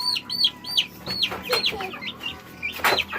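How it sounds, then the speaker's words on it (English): Backyard chickens cluck and squawk close by in a quick string of sharp, high, uneven calls, loud and near, with a faint hint of people in the background. "Yes, baby, chicken."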